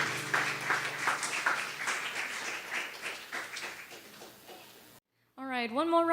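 An audience applauds a musician at a memorial lecture, with steady clapping that fades before a short pause, then a voice begins speaking.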